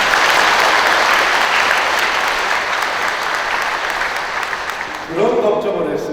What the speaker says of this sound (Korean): 사랑과 감사의 박수 먼저